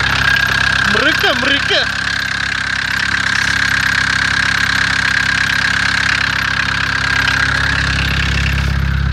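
A 1992 VW Golf 1.9 TD AAZ diesel idles steadily after a cold start in Sofia, a constant loud rumble with a high whine throughout, and a man briefly exclaims over it early on.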